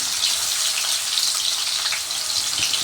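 Steady hiss and crackle of potatoes frying in hot oil, close and continuous, with no talking.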